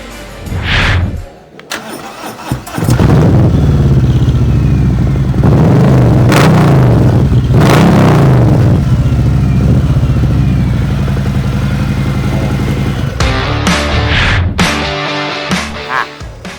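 A Harley-Davidson Touring motorcycle with a 1680 cc Milwaukee-Eight 107 engine and aftermarket exhaust starts up loud and close, then barks through several hard throttle swells before cutting off and blipping again near the end.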